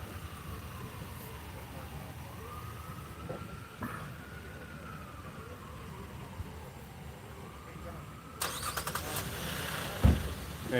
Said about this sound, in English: You can hear sirens.